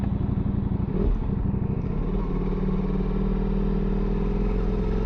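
A Ducati Multistrada V4S motorcycle engine hums steadily while riding, a loud, continuous low drone with a brief surge near the start, with no talk over it.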